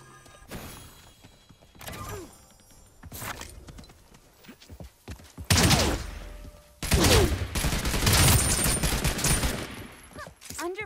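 Gunfire in the Realm Royale battle game, with scattered sharp shots at first and then dense bursts of rapid fire that come loud and close in the second half.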